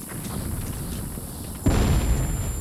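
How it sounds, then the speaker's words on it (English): A frag grenade goes off in the Vietcong video game: one sudden, loud blast cuts through a low background rumble and leaves a dense, roaring wash that holds steady to the end. "Before I go in there, I'm gonna do a frag. Heads down, boys. Fire in the hole."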